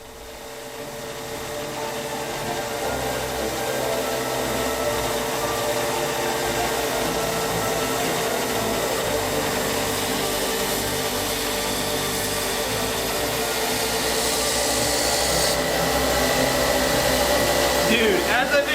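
A steel sword blade is ground by a power grinder in a forging workshop, giving a continuous loud whirring hiss that builds and holds steady throughout, with brighter grinding noise near the end.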